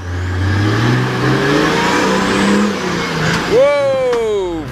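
A car engine revs hard and rises in pitch while climbing a canyon track, loud and close, with voices shouting over it near the end.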